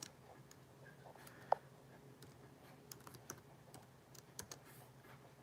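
Faint keystrokes on a computer keyboard while a short hello is typed into a chat box, soft irregular clicks with a sharper tap that sounds like pressing return.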